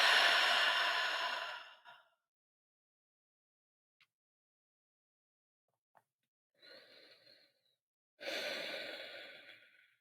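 Slow meditative breathing during a guided prayer session: a long, close exhale fades out, two tiny clicks break a quiet pause, then a softer breath follows before another full, airy exhalation swells near the microphone.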